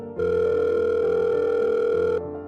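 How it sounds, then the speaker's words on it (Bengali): A telephone call is placed, and a steady electronic tone sounds alone for about two seconds before cutting off abruptly. "রজতবাবুর ফোন ছেড়ে তিমিরকে ফোন করল তিস্তা"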